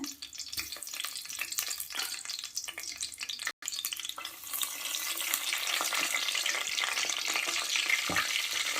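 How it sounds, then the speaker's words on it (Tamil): Cinnamon and fennel seeds frying in three teaspoons of hot oil for chicken biryani, a steady crackling sizzle that briefly drops out and then grows denser and louder with soft stirring scrapes. "த்ரீ டீஸ்பூன் எண்ணெய் சூடானதும் பட்டை, சோம்பு சேர்த்துக்கலாம்."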